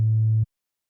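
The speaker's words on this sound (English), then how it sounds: "We'll do the analog BD sine," Analog BD sine waveform from the Serum synthesizer, a pure low steady tone held for under half a second, loud and clean, then cutting off into silence.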